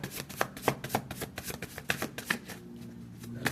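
A tarot card deck is shuffled by hand, giving a rapid, steady run of papery flicks and soft slaps close to the mic that thins out toward the end.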